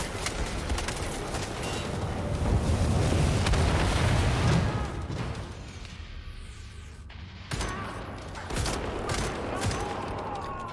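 A grenade blast amid gunfire in the shooter Wolfenstein: The New Order, a heavy rumbling boom swelling over several seconds, followed by sharper scattered shots and impacts.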